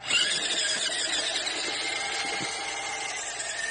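WPL C54 1/16-scale 4x4 RC off-road car with a 260 electric motor running at full throttle, a steady high-pitched whine that holds level and close for a few seconds with no talk.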